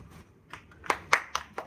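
A handful of scattered, sparse hand claps from a small audience at a press conference about removing harmful books from public libraries, faint and hesitant, coming in about five separate taps.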